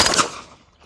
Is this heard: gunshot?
yes